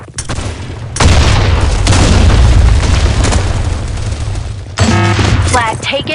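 A grenade blast in the online shooter Blackshot on the Sand Storm map, a loud, close boom that roars and rumbles for several seconds, then gunfire and a voice break in near the end.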